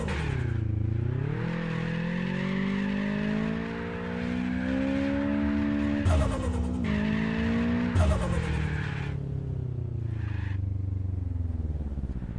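A car drifting in the Apex Point racing game, on a drift course and with no handbrake: a loud, sustained tyre squeal with shifting pitch over a steady engine drone, broken by a few abrupt breaks and jolts.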